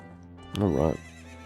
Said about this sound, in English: We got a horse.